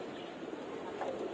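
Pigeons coo continuously from a loft, where some birds have just been released, a steady murmuring bed of low throaty calls with no pauses.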